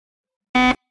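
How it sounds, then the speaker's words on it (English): A single short, harsh game show buzzer, loud and abrupt, lasting about a quarter second in otherwise silence. "Buzzer."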